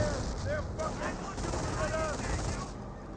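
Steady rattle of rifle and machine-gun fire in a World War II Company of Heroes battle, dense and continuous under a constant rumbling backdrop, with a voice talking over it.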